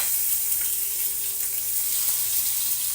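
Two pieces of liempo pork belly, marinated only in salt and black pepper, sizzle steadily in a pan, a continuous even hiss with no talking.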